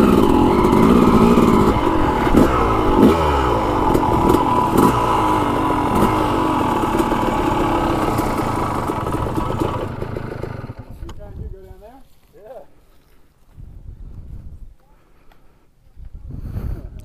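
A motorcycle engine drones loudly and steadily while the bike is ridden along a trail, then falls away to quieter, intermittent engine sounds.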